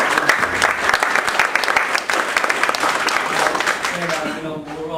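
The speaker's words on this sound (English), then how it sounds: "A huge applause to TechTown" Hearty crowd applause at a tech meetup, loud and continuous, with a murmur of voices rising as the clapping fades near the end.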